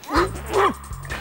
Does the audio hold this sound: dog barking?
yes